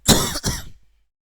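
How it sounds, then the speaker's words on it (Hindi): A man with a bad cough clears his throat in two quick rough bursts, close and loud, then silence. "सॉरी, आज बहुत खांसी आ रही है।"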